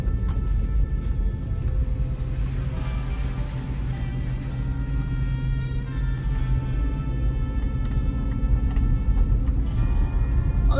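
A supercharged L322 Range Rover drives off-road on a trail, its engine giving a steady, droning rumble with a faint whine layered on top and no pauses.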